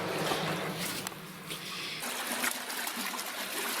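Water trickles steadily through a flooded old copper mine, a continuous close wet dribble and light splashing that shifts in texture partway through, with no talking.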